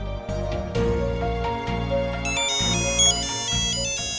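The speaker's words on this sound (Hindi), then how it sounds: "आपका फोन क्यों बज रहा है?" A mobile phone ringtone plays loudly during an office meeting, a bright melodic electronic tune that repeats over a steady music-like bed, with no talk.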